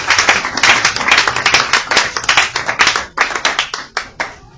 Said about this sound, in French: Vous pouvez vous asseoir tout en acclamant pour la gloire du Seigneur.